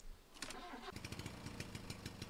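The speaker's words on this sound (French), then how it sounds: "T'es prêt à faire vrombir le moteur?" A car engine from the video game Jalopy cranks and catches, then settles into a rapid, buzzy, putting idle like a small mower engine, heard close and fairly quiet.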